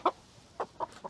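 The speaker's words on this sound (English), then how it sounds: "I think this is a rooster." A rooster with striking feathers in a backyard flock gives several short, close clucking calls spaced irregularly over about a second.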